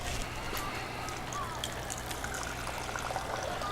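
Governor's gold rum poured into a glass makes a soft, steady trickling stream under a low background hum, continuous and close.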